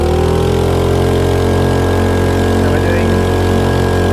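A 2.3hp petrol outboard motor drives a RIB tender, its loud, steady mechanical drone running continuously and close throughout, with no speech.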